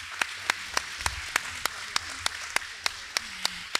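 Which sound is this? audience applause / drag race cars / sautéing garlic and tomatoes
audience applause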